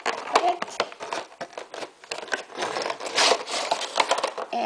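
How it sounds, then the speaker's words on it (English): A plastic miniatures pack being cut open with scissors, giving crinkling plastic and repeated snipping and rustling up close, in uneven bursts. "this is the pack, and I'm gonna cut it"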